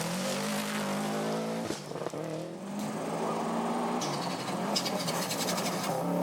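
A 2001 Subaru rally car at full race pace in the Canadian Rally Championship, its engine roaring loud and close with gear shifts and a surging rev change, tire and gravel noise continuing throughout.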